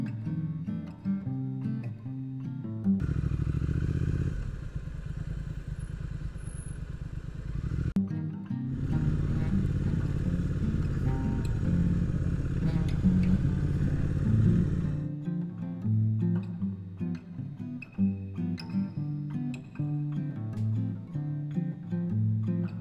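A motorcycle idles in traffic during a Mod 2 riding test route in Erith, with a steady low engine rumble that swells louder in the middle stretch before easing back to a quieter idle.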